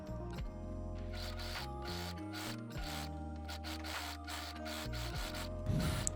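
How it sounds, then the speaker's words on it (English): An overlock machine finishes and trims a seam on a sleeveless summer top, a close, continuous motorized whirring with rapid stitching chatter and small shifts in pitch as the speed changes. "finish the seam with an overlock while trimming"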